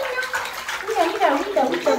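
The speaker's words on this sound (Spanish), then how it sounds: "¡Chapotea, chapotea, chapotea!" A baby splashes water in a bathtub, with continuous sloshing and splashing up close while someone talks over it.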